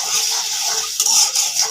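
A spoon scrapes and stirs chili, ginger paste and garlic paste in a hot pan, giving a soft, steady sizzling hiss with a few brief scraping bursts, close up and without talk.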